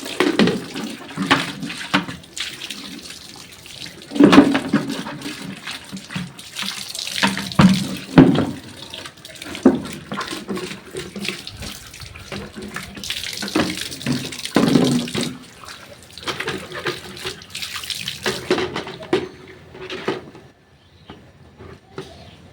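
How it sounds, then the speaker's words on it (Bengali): Tap water runs into containers as they are filled, a close, splashing gush that surges and drops in uneven bursts with clunks of vessels being handled, then fades to quiet near the end. "এখন আমি কলের জলগুলো নিয়ে নিই।"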